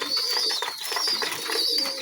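Pigeons cooing softly in overlapping low, throaty calls, nearby, with a faint higher chirp running through.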